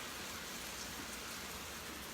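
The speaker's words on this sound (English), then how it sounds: "can you hear the rain?" Rain falls as a steady, faint, continuous hiss with no distinct drops or voices.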